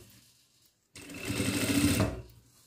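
Sewing machine stitching a seam in sweatshirt fleece for a jumpsuit with cuffs, a brief quiet pause and then a close, loud burst of rapid mechanical whirring for about a second before stopping.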